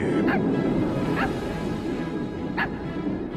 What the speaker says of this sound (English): Jack's little friend Zero, the ghost dog reindeer